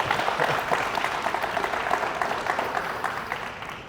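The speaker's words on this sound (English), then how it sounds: "One more round of applause for these lovely ladies here." Steady audience applause at a high school national signing day celebration for women's soccer players, a continuous wash of many hands clapping at moderate distance.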